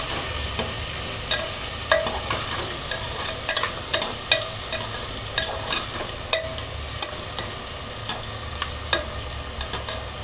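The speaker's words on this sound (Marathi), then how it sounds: "आता टोमॅटो टाकायचा आहे।" Tomato going into a pan of masala khichdi frying on the stove, with a steady sizzle broken by repeated sharp clinks and scrapes of a spoon stirring at an even pace, close and clear.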